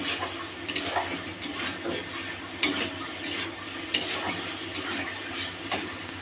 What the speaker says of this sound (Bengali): এই যে আর মাছ ভাজা, তেল ছেড়ে এলে মাছগুলো দিয়ে দেবো।